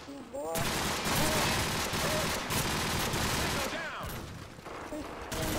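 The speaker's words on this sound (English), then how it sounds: "I hear like rapid gunfire is confusing me" Rapid automatic gunfire in a Modern Warfare multiplayer match, a dense and continuous stream of shots filling nearly the whole stretch, loud and close, with only a brief dip midway.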